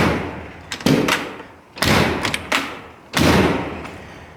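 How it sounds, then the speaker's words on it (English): A door with a glass panel, under repair and taken apart, is pushed shut several times, each close, loud thud and rattle followed by a brief settling; four distinct slams with short pauses between. "Door's getting a little easier to shut."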